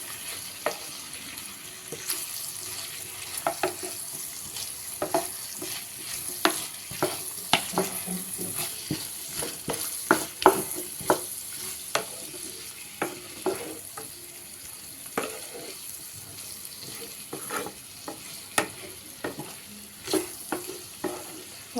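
Potatoes sizzling and frying in a pan, with repeated scraping and stirring clatters at an irregular rhythm, close and moderately loud, no talking.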